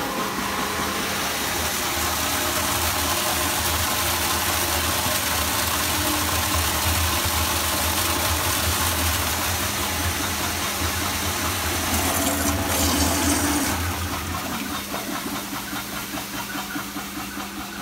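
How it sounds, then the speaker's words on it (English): A pump runs to empty the underback in a brewery: a continuous, fairly loud mechanical hum with hissy flow noise, shifting slightly in tone near the end. "So we'll empty that by switching on the pump"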